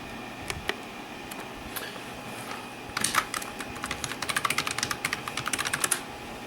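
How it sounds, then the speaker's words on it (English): Keys clatter on a Dell Precision 220 workstation computer keyboard as a password is typed, a few isolated taps followed by a quick run of close, crisp keystrokes, no voices. "I will need to type a password."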